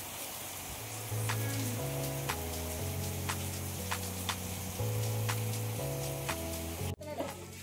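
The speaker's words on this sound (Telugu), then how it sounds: "చూసారా ఎంత కుందపోతగా పడుతుందో వర్షం" Heavy rain pours down in a steady, continuous hiss that fills the background, with sustained tonal notes running over it and a brief knock near the end.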